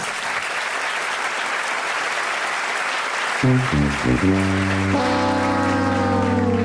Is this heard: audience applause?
yes